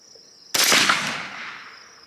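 A single suppressed shot from a .300 Blackout rifle with a Dead Air Nomad L suppressor and E-Brake, firing a Remington 220 grain subsonic round: a sharp, close crack with a brief decaying tail, over a steady insect whine outdoors.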